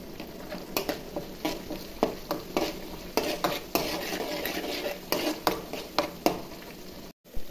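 Onions frying with turmeric in a pan while a spoon stirs them, the sizzle running steadily under repeated scraping and clinking strokes at a fairly even pace, close by, with a brief silent gap near the end.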